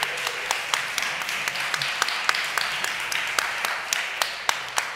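Sparse, light clapping from a small audience at a panel discussion, with scattered individual claps in a loose rhythm that stays fairly quiet throughout, with no voices over it.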